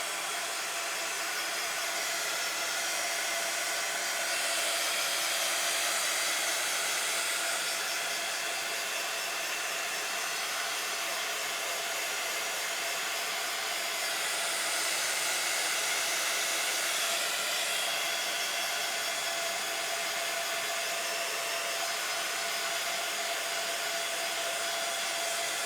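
Hair dryer blowing continuously to dry paint on a journal page, a loud steady whirring roar held close for the whole stretch, with slight shifts in tone as it moves, and no talking.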